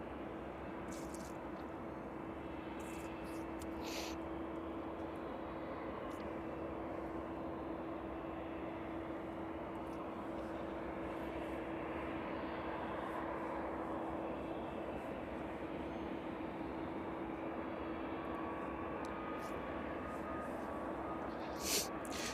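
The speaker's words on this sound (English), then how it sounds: "So those cargo ops in full swing now on that cargo jet 767" A Boeing 767 cargo jet at East Midlands Airport sends a steady, loud engine roar and rumble that holds for over twenty seconds, with no talk heard.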